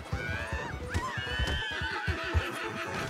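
A horse in a video game whinnies in long wavering neighs while hooves clip-clop steadily underneath, close and clear with no talking.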